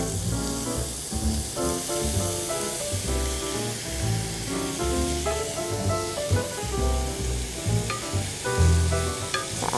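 A tofu mixture is stirred in a hot pan, giving a steady sizzle with soft scraping throughout, set against continuous background music.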